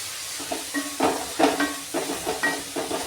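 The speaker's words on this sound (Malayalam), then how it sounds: "ഇതെല്ലാം കൂടെ ഞാനൊന്ന് വഴറ്റിയെടുക്കാനായിട്ട് പോവുകയാണ്." Crushed garlic and ginger sautéed in a pan for an egg curry: a series of close, rhythmic scraping strokes over a faint hiss of frying.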